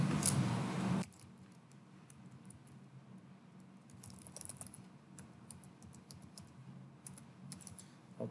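Soft, quick keystrokes on a computer keyboard as a password is typed, following a louder burst of noise in the first second and continuing as faint, irregular tapping in a quiet room.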